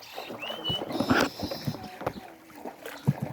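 Gentle splashes and creaks of a small wooden boat being rowed on a wetland lake, soft irregular paddle strokes with faint background sounds.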